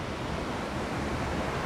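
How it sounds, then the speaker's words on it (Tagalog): Shallow, clear river water rushes in a steady, dense wash, close and continuous without any voices. "May nanggagaling na agos dun sa dulo."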